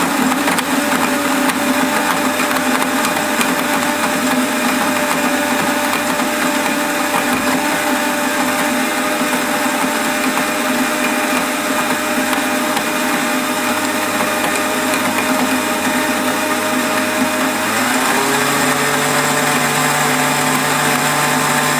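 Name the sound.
food processor or blender whizzing oats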